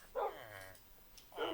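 Tamed wolves in the Minecraft video game give two sharp barks, one at the start and one at the end, with quieter dog whimpering sounds between them.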